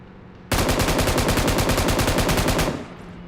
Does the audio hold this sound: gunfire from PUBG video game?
yes